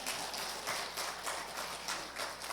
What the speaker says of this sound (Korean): 하나님께 영광의 박수 한번 드리겠습니다